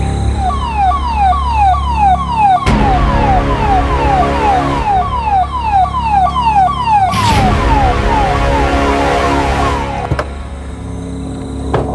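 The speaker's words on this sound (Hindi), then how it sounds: "एम्बुलेंस" A loud ambulance siren wails in fast, repeating up-and-down sweeps, steady and close, interrupted twice by brief bursts of harsh noise.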